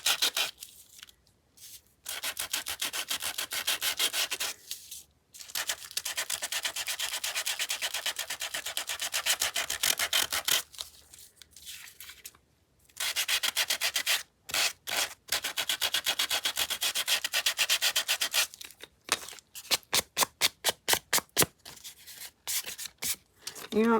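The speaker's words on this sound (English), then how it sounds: "You don't have to do a ton of sanding." Paper for a craft project is hand-sanded, a close, steady rasping rub in long sustained passes broken by short pauses, ending in a quick series of short, rhythmic strokes.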